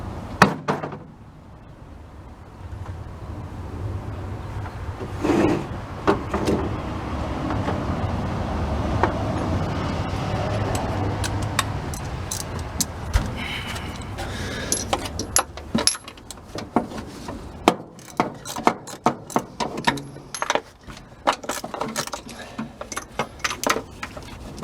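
A spark plug wrench is fetched and handled in a garage: metallic rattling, clinking and knocking of tools, with a low rumble early on and sharp scattered clanks toward the end.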